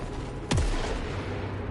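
A single ricochet hand cannon shot from the video game Saros, a sharp loud crack with a falling whine, fading into a steady low background rumble.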